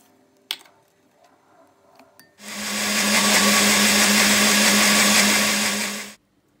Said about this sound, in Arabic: بالبداية حطيت داخل الخلاط 3 بيضات، وبدي أضيف فوقهم منهم السكر والفانيليا، وبدي أحفظهم بواسطة الخلاط طبعا لمدة 7 دقايق